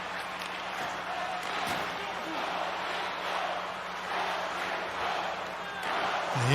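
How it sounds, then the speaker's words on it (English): A game crowd roars and cheers for the Geese, a steady wash of many voices that swells near the end with no single voice standing out. "And you hear it from the crowd"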